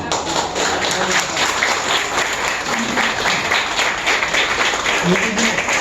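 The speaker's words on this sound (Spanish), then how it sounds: "Por favor, un fuerte aplauso." A crowd applauds steadily with dense, continuous clapping that stays loud throughout, with faint voices mixed in.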